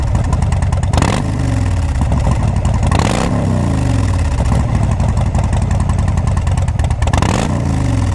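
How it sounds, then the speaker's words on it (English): A Harley-Davidson Dyna Fat Bob with short shots exhaust runs loud and close, a deep lumpy idle broken by three sharp throttle blips that rise and fall, with no talking. "these are going to be really loud and you're going to hear the bike coming"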